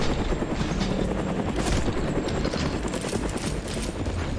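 A helicopter in the first-person shooter Maximum Action chops loudly and continuously, its rotor throb dense and near, with scattered impacts and clatter mixed in and nobody speaking.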